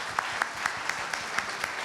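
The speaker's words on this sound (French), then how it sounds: "on peut l'applaudir très fort" Audience applause at a company's 80th anniversary celebration for a packaging firm: steady, moderately distant clapping from a crowd, with a few sharper individual claps standing out rhythmically through the sustained wash.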